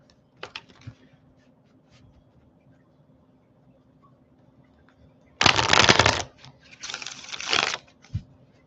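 A tarot deck is shuffled in two loud riffling bursts, each lasting about a second, following quiet handling noises and a few soft taps.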